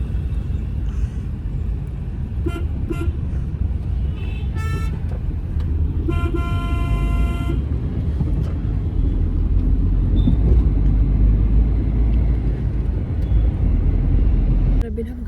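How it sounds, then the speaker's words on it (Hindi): Heavy Sunday road traffic rumbles steadily outside, with several car horns honking in short bursts and longer blasts, while indistinct voices are audible nearby. "पर यहाँ इतना ट्रैफिक हो रहा है, देख सकते हैं आप बाहर।"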